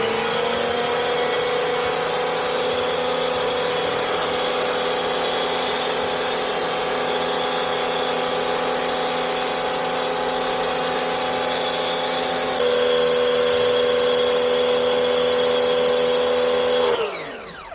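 A Bosch EasyAquatak 120 pressure washer with a rotary nozzle runs continuously with a loud, steady motor whine and hiss of spraying water, shifting slightly in pitch before cutting off near the end.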